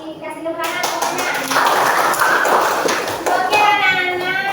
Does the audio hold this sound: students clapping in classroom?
yes